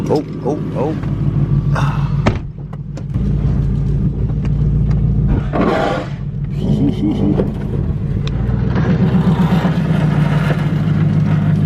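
A Lexus LS400 car drives on a short spin before a car meet, with a steady engine and road rumble throughout and occasional revving, while people talk over it.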